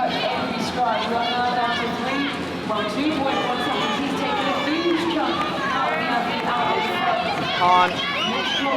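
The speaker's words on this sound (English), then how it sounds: "You can hear the crowd." Crowd noise at an Arena Games triathlon race, a steady broad roar of spectators with a commentator talking continuously over it.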